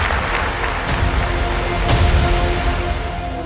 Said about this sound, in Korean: 여러분 큰 박수하고 큰 함성을 한번 올려주시면 좋겠습니다